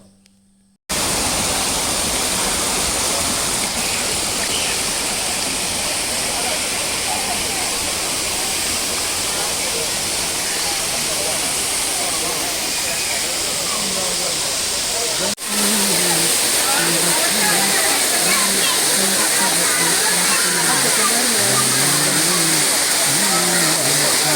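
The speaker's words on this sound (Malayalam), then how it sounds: "രണ്ട് തട്ടായിട്ടുള്ള വെള്ളച്ചാട്ടത്തിൻ്റെ താഴെ ഭാഗമാണ്" Palur Kotta waterfall, the lower tier of a two-tier fall, roars with a steady, dense rush of crashing water that fills the space, loud and close throughout.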